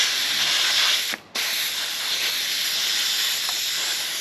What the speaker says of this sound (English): bit of air escaping out